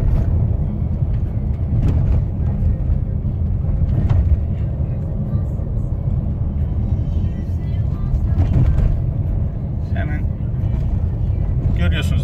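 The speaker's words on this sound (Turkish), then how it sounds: "şu anda hem dar hem de bozuk bir yoldan geçmeye çalışıyorum" Nissan Qashqai driving slowly along a narrow, bumpy, broken road, a steady loud low rumble of engine and tyres with occasional jolts, heard from inside the cabin while someone talks throughout.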